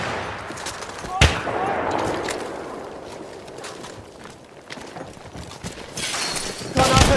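Enemy machine gun fire during a World War I assault in Argonne Forest in the game Battlefield 1, scattered sharp shots and bursts over a noisy battlefield wash, one loud crack early and another near the end.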